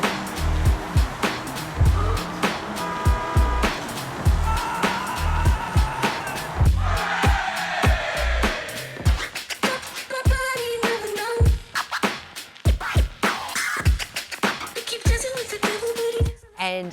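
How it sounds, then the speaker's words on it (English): A house being torn down by demolition machinery: heavy crunching, cracking and clanking of debris in repeated loud impacts over a working engine, close and busy throughout. "I can't believe how fast this demolition is taking place"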